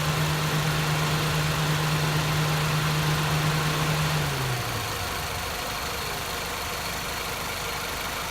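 A car's radiator cooling fan whirs steadily with the engine idling, a loud close drone with a low hum that winds down and drops in pitch partway through, leaving a quieter steady rumble.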